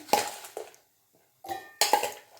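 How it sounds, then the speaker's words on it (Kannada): A mixer grinder jar is picked up and set down in a village kitchen, a few sharp metallic clinks and knocks in quick bursts separated by a short silent gap. "ಜಾರ್ ಎತ್ಕೊಂಡಿದ್ದೀನಿ, ಹಾಗೆ ಬಟ್ಲಲ್ಲಿ ಹಾರಕ್ಕಿಟ್ಟಿದ್ದೆ."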